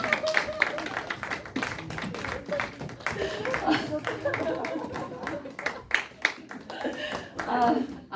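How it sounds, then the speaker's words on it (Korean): A church congregation gives a round of applause during a Sunday worship service, with dense, steady hand clapping from many people throughout, under some voices. "네, 큰 박수로."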